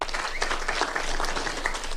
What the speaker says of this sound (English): A round of applause for those good people who will lead our teams in both the Senate and National Assembly.